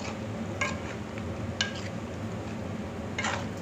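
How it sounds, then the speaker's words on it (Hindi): Red chili powder being stirred into raw mango chutney with a spoon in a pot, giving three brief scraping clinks against the metal over a steady low background hum, fairly close and moderately quiet. "इसको अच्छे से मिक्स करेंगे"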